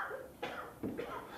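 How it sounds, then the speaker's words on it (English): An actor on a theatre stage during a play coughs twice in quick succession, each a short harsh burst, fairly close and clear. "Damn cough."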